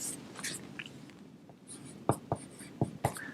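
Chalk or marker writing on a board in a physics lecture hall, a run of sharp taps and short strokes near the end over a low room hum, with no talking.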